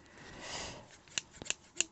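Cheap new kitchen scissors make a few quick, crisp snips, sharp clicks close to the microphone after a soft rustle of packaging, quiet and without talk.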